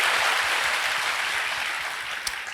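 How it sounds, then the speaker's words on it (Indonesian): A church congregation applauds together in a steady, dense wash of clapping that fills the space and tapers slightly toward the end. "Berikan tepuk tangan kita untuk Tuhan kita."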